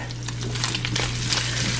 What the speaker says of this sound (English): I start by just frying up some bacon